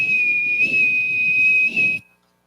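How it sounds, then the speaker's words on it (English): One long, forceful blast on a whistle, a steady piercing tone held for about two seconds over low room rumble, then cut off sharply into silence. "pulls the whistle out and blows once more, long and with force"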